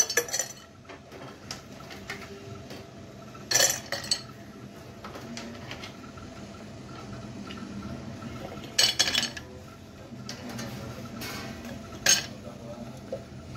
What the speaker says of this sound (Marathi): इथे एका जारमध्ये मी बर्फाचे खडे घेते